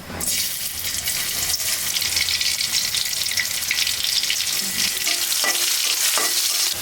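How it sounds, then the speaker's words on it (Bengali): Steady, loud sizzling and crackling of onions and chillies frying in hot oil, continuing without a break, with faint clinks of stirring near the end. "এখন হচ্ছে আমি পেঁয়াজ মরিচ ভেজে নিব"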